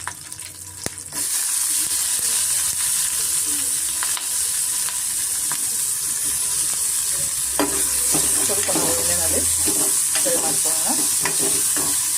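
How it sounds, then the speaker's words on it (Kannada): Onion, ginger, garlic, green chilli, coriander and mint frying in a spoonful of oil in a pan for an egg curry, a steady loud sizzle with repeated spoon scrapes and stirring clatter. "ಇದೇ ಬಾಂಡಿಗೆ ಒಂದು ಸ್ಪೂನ್ ಎಣ್ಣೆ ಹಾಕ್ಕೊಂಡು ನಾವು ಸ್ವಲ್ಪ ಮಸಾಲೆನ ಸ್ವಲ್ಪ ಫ್ರೈ ಮಾಡ್ಕೊಳ್ಳೋಣ"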